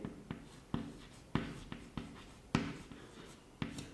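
Chalk or marker writing on a board during a chemistry lesson, a series of sharp taps and short scratchy strokes in an irregular rhythm, close and fairly quiet with no talk.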